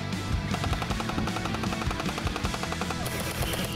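Gel blasters fire in rapid, continuous bursts during a chaotic free-for-all battle, a dense rattling chatter that runs loud and steady throughout the clip, with no talk.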